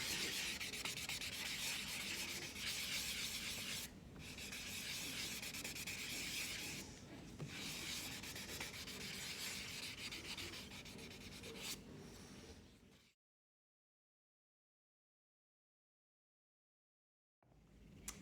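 Wet and dry sandpaper rubs steadily back and forth over a timber folding-shovel handle, a close, continuous rasping broken by two brief pauses, then silence before a short bump at the end.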